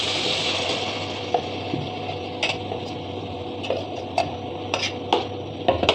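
A spoon scrapes and clinks against a pan as ground masala is stirred into cooking sundakkai (turkey berry) kuzhambu, with a soft sizzle underneath and several sharp metallic taps scattered at irregular intervals, close and fairly quiet.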